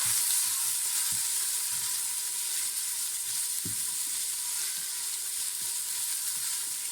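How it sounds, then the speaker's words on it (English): Finely diced onion and curry leaves fry in hot oil for dhal, giving a continuous soft sizzle. Scattered knocks and scrapes of a stirring utensil sit over it, and no one talks. "the half onion that we had diced finely going in next. You can see the air coming out. And just give that a stir."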